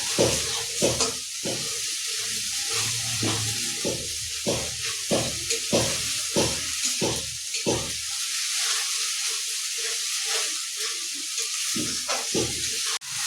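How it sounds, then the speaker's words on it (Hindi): Masala for a Mithila-style rohu fish curry sizzles in a pan over medium heat, with steady frying hiss broken by repeated scraping stir strokes throughout, close and fairly loud with no talking. "एकरा बढ़िआँ जकाँ मसालाके भूजि लेबै 3-4 मिनट तक मध्यम आँच पर।"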